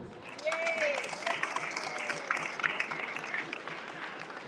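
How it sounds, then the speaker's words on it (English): Applause breaks out across a political party congress hall in London for a newly elected executive: a dense, steady wash of clapping from a large crowd, with scattered voices and cheers mixed in. "can you give your new executive a round of applause?"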